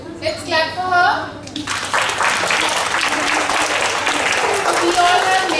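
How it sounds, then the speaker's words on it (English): Children in a school assembly break into sustained applause, loud and close, the dense clapping running throughout with some young voices mixed in. "Let's clap for her."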